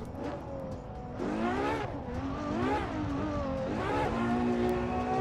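Ferrari Monza drifting in the racing game Assetto Corsa: engine revs rise and fall in repeated surges with tire squeal, loud and close, with no talk.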